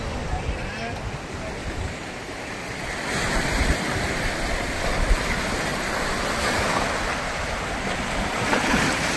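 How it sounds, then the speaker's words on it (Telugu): Small waves wash gently and continuously onto Om Beach in Gokarna, Karnataka, a soft steady surf roar with some wind noise, the sound swelling slightly midway. "ప్లేస్ అంతా చిన్న చిన్న అలలు వస్తున్నాయి"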